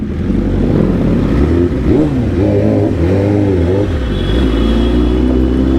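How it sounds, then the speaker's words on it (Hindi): A motorcycle engine revs loudly and continuously inside a crowded Durga Puja pandal, its pitch rising and falling in close, heavy throttle swells with no talk over it. "पंडाल में भाई बाइक लेके घुस गए हम लोग।"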